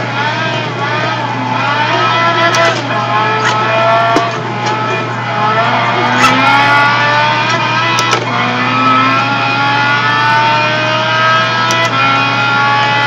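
A Honda S2000 GT1 Turbo race car in Gran Turismo drones loudly and steadily, its engine pitch rising and falling through gear shifts, with occasional thumps and a constant low hum underneath.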